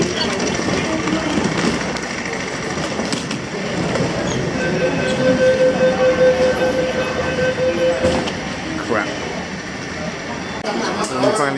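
A subway train in Hong Kong rumbles along the tracks with steady wheel clatter and a brief high squeal, while people talk faintly in the carriage.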